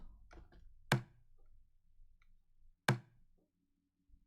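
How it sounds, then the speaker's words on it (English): Two sharp bongo hits in an Ableton melodic techno drum pattern, spaced about two seconds apart, dry and percussive over a faint low background. "And then I have bongo sound"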